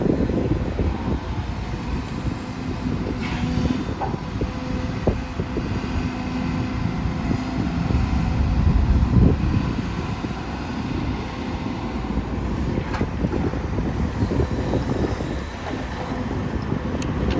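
Strong wind buffets the microphone at an outdoor excavation site with a Sumitomo SH210-6 excavator, a loud continuous rumbling roar with gusty swells lasting throughout.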